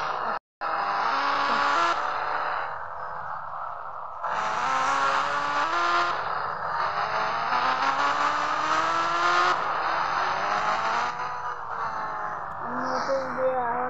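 A motorbike engine revs and drones through rising and falling gear changes while riding, a close, continuous whine with a brief cut near the start.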